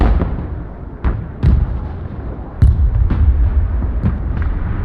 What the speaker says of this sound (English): Airstrike complete.